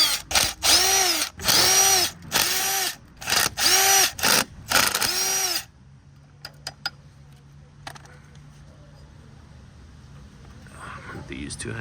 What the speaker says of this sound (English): So I'm just going to remove all of these 13mm bolts.